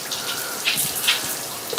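Cold water runs and splashes steadily while a dog is being washed outdoors, a close hissing stream with small bursts of spatter.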